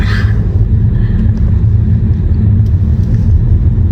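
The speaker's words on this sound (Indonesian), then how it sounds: "大哥堵车了呀！" Cars in a traffic jam during evening school pickup give a loud, constant low rumble of idling and slowly moving engines, with faint distant noises above it.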